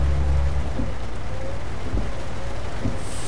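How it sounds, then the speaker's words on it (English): Night rain in the Euro Truck Simulator 2 driving game patters steadily on the truck, with a low rumble of thunder or engine at the start and faint drops throughout, no voices. "Night rain."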